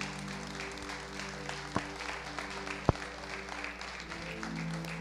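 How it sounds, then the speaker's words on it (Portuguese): A congregation applauds steadily during a church service in a large room, a dense wash of clapping with a couple of sharper claps standing out. "Vamos aplaudir o Senhor aqui."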